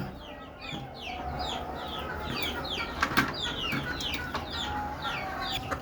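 A flock of desi (native) chickens on a rooftop clucks and chirps busily all around, with overlapping calls and a few louder squawks close by.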